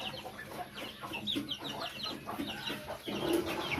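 Several chickens cluck and chirp close by, overlapping short calls in an irregular rhythm with faint peeping from chicks.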